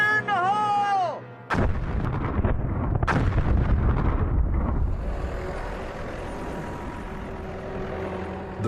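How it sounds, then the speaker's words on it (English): Small explosive charges blast rock at an Arctic dinosaur fossil dig, a sharp initial boom followed by a second blast and a long rumbling roll of falling debris, loud and close, with a whistle-like tone just before. "begin with a set of relatively small charges. Fire in the hole!"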